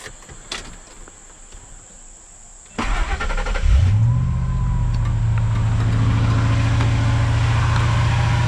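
A 1999 Ford F-150 with the 5.4L engine cranks briefly, catches and settles into a steady, loud idle after some quiet handling noise, with crickets chirping faintly in the background.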